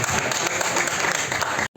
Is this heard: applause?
yes